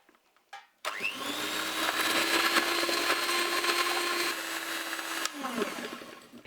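An electric mixer whirs loudly and steadily for about four and a half seconds while beating eggs with sugar into a fluffy mass for an Ottoman-style semolina cake, starting abruptly and cutting off sharply.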